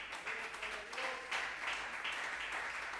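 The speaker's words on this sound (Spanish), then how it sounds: "Dele un fuerte aplauso al Señor Jesús" A church congregation claps in a steady, dense wash of applause that carries on throughout at moderate loudness, with no voices standing out.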